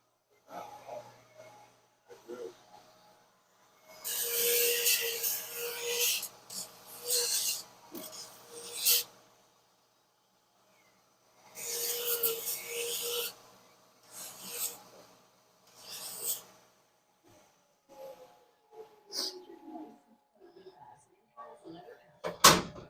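At a ski shop, a ski tuning machine grinds ski bases in a pre-programmed tune, producing intermittent bursts of harsh rasping with quieter clunks and mechanical noises between them.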